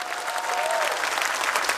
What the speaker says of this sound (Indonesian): Tepuk tangan untuk BMI.